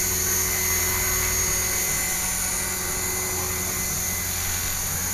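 An RC helicopter fitted with a GY520 gyro flies steadily, its rotor and motor giving a constant high whine with a rushing roar underneath, loud and unbroken, with no voices.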